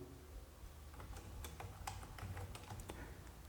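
Keys clacking on a computer keyboard while filling in a name, address, state and PIN code in Tally Prime accounting software, a quiet irregular patter of taps over a low room hum.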